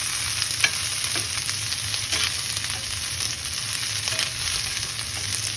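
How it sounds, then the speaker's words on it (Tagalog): Vegetables fry with scrambled egg in a pan, a steady loud sizzle and hiss with scattered scraping stirring strokes throughout, no talking. "Haluin natin."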